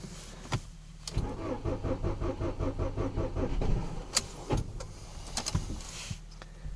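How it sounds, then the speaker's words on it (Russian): A Ford Focus on 5W-30 Ford Formula oil, parked five days in frost with a two-year-old 60 Ah battery, cranks rhythmically for about three seconds before the engine catches and settles, with clicks and clunks around it. "Так, заводим Ford Focus"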